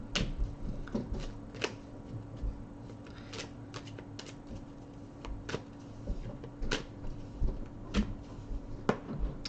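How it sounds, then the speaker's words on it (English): Cards being shuffled by hand: a run of crisp riffling flutters and sharp slaps, repeated irregularly against a low background hum. "So let's give this deck a shuffle"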